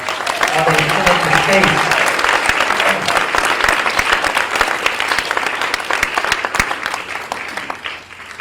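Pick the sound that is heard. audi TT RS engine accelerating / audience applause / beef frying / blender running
audience applause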